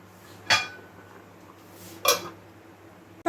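A pan lid is set down over fish cooking in a pan, giving two separate sharp metallic clinks about a second and a half apart over a low steady kitchen hum.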